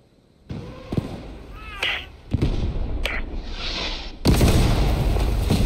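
Artillery fire in the WWII shooter Post Scriptum, a few heavy booms and thumps with a loud, sustained blast at the end, mixed with mechanical clanks and brief voices in between.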